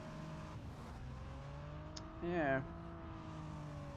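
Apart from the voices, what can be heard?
DeLorean car driving in video game Driver San Francisco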